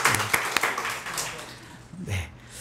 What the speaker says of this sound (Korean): 네, 다시 한번 환영의 박수를.